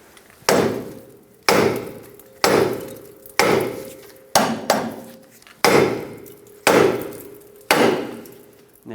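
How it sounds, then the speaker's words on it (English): A hammer strikes the upper control arm of a 1996–2002 Toyota 4Runner during ball joint work, about nine sharp metallic blows at a steady pace, each ringing briefly before the next, loud and close. "Take a hammer, tap the control arm right here."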